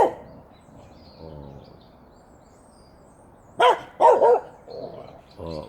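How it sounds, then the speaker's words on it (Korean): A mixed Sapsal-Jindo dog barks at a squirrel in a quiet morning setting at a cabin. Several sharp barks come in a short cluster midway, with faint bird calls and low murmurs earlier. "우리 아지가 청설모를 보고 짖고 있습니다."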